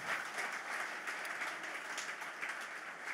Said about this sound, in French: Est-ce qu'on peut applaudir l'Esprit de Dieu pour ça?